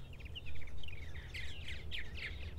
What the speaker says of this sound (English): you can hear the babies chirping away, that muffled chirp inside the gourd